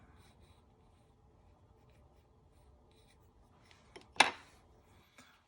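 A pencil outlines an eye shape on wood before carving: faint, soft scratching for several seconds, then one brief, sharper stroke near the end, with no talking.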